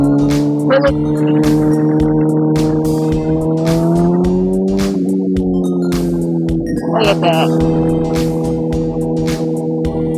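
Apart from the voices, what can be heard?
sport motorcycle engine revving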